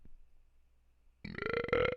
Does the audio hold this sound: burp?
yes